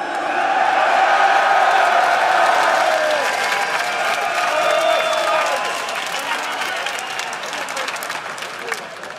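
An esports arena crowd at a League of Legends EU LCS match bursts into loud applause and cheering that swells at the start and slowly tapers off, with scattered whoops.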